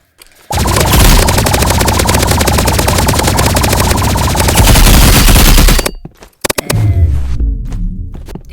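Energy pistol firing rapidly in the Roblox Rivals shooting game, a loud continuous stream of shots for about five seconds before stopping abruptly, followed by a few scattered bursts.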